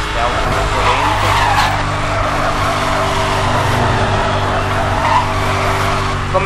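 Loud, continuous tire squealing as a Dodge Charger drifts at about 230 km/h in Need for Speed: Hot Pursuit, engine roaring underneath throughout.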